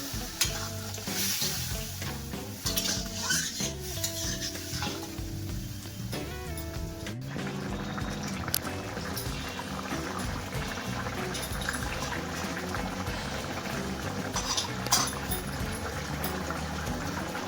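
Water is poured into a simmering drumstick and potato curry, an Odia moringa and aloo dish, as the pan sizzles and bubbles loudly, with a splashing pour in the first seconds giving way to steady frying hiss.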